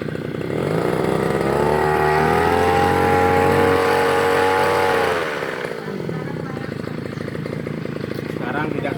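Small gasoline engine of a motorized tiller working soil in a field, a loud steady buzzing drone that rises in pitch around the middle then settles back to a rougher idle-like churn.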